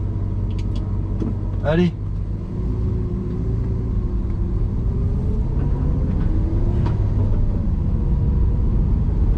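A Lamborghini Aventador drones steadily up close while driving, the engine note rising slowly. A voice gives a short excited shout early on.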